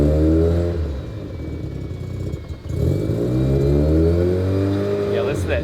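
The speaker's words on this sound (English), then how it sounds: "listen to that turbo. She's able to spin more freely." A turbocharged Mazda FC RX-7 engine revs hard and close, its pitch climbing, dipping briefly midway, then winding back up into a smooth, rising roar.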